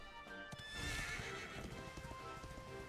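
A horse in the video game Dragon Quest XI neighs loudly and clip-clops along at a gallop, with the hoofbeats forming a quick rhythm under a bright whinny and no talking.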